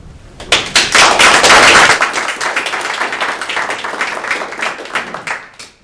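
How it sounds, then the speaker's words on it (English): People at a building committee meeting break into loud applause, dense rapid clapping that swells at the start, then thins and fades toward the end. "can we just hold the applause?"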